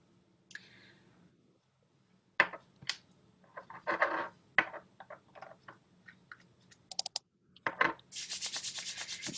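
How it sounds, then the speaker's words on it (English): Hands rubbing together with a drop of essential oil, giving soft, close frictional swishes in short bursts that build into a steady, continuous rubbing toward the end. "Rubbing your hands together like this, creating a little bit of friction, a little bit of heat"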